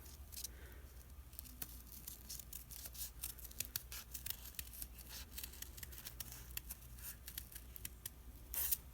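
Scissors snipping paper to cut out a homemade journal stencil, a steady run of small close crisp cuts and rustles, quiet, ending with a louder burst of paper handling.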